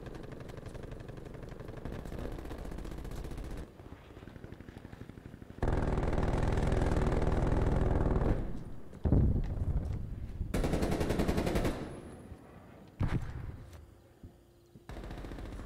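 Hostile sentry turret machine gun fire in Call of Duty Black Ops Cold War rattles in loud sustained bursts that cut in and out, with sharp pauses between volleys and a low mechanical hum underneath.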